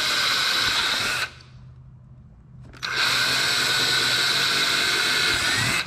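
A power drill whines at high speed, stops for about a second and a half, then spins up again and runs steadily, loud and close, while working on a Corvette C4 inner door panel.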